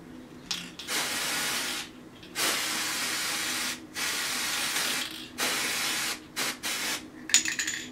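Sephora Hush Prism airbrush hair color spray hisses out in repeated bursts of varying length, each a loud, close, broadband spray separated by short pauses, with a faint click or rattle near the end.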